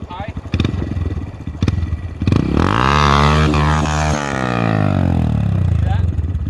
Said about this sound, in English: dump the clutch, and that back tire is just going to swing around in a 180 motion